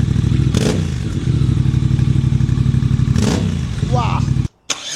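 Moto Guzzi motorcycle engine running loud and close with a deep pulsing rumble, blipped twice in sharp revs, before a brief cutout near the end.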